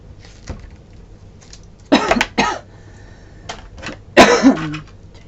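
A person coughs close to the mic, two bursts of harsh coughs a couple of seconds apart, with faint shuffling and small noises in the quiet room between them.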